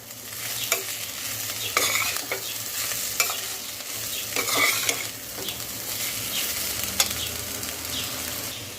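Moong dal khichdi being stir-fried in a ghee tempering: a soft, steady sizzle with a spoon scraping and clinking against the pot at irregular intervals.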